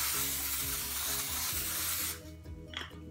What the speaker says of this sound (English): Spray just a light coating in your pan.